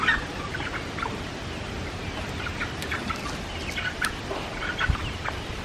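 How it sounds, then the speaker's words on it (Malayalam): Chickens and chicks cluck and peep in a backyard coop area, scattered short calls over a busy, rustling outdoor background, with no one talking. "ജഗ്ഗു കോഴിക്കുട്ടികളെ ഓടിപ്പിക്കണ്ട."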